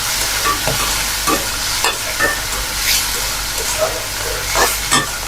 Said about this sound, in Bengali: এখন ভেজে নিচ্ছি।